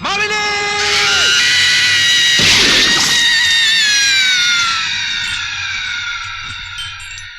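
A woman screams in fear in the Bollywood film Raaz, a long, shrill, sustained cry that rises sharply, peaks with a harsh burst partway through, then trails off slowly.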